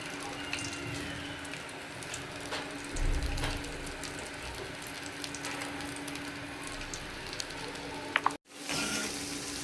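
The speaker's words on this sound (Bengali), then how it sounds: "কড়াইতে পেঁয়াজ দিয়ে দিছি আর তেল দিছি" Onions frying in oil in a wok on a home kitchen stove, a steady broadband sizzle that holds throughout, with a brief cut near the end before the sizzle resumes.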